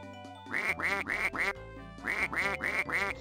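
Cartoon ducks in the 2005 Dora the Explorer video game Dora's Fix-it Adventure quack loudly in two quick runs of about three quacks each, with a short pause between them.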